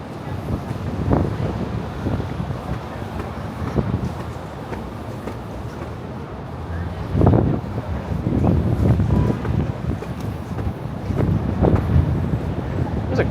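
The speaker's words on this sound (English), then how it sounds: "There's a good wind today." Wind gusting outdoors on a Manhattan street in summer, a steady broad rush with stronger bursts rising and falling over the whole stretch.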